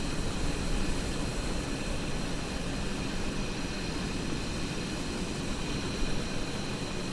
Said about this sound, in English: An aircraft.